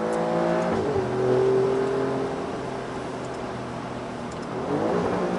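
A 2018 Alfa Romeo Giulia Quadrifoglio sedan accelerates on twisty back roads, its engine rising in pitch through gears, dipping at a shift, then revving back up, loud and close from inside.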